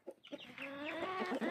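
Roosters on a farm cluck in short, close, clear calls, a quick run of throaty notes rising into a drawn-out crowing-like phrase, with no talk.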